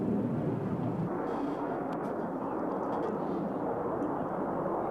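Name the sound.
Tornado jet with twin Turbo-Union engines flying at airshow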